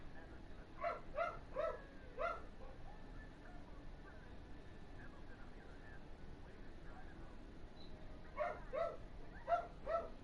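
A dog barks indoors in short bursts of three or four quick barks, then goes quiet for several seconds before another burst; the barking is fairly distant and soft over a low background hum.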